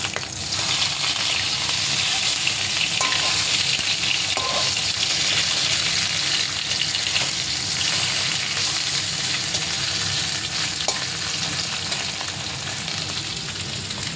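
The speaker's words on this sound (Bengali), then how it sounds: "মাছ ভাজা উঠিয়ে নিলাম" Fish frying in oil in a pan, a loud, dense, continuous sizzle and crackle that runs the whole time with no talking over it.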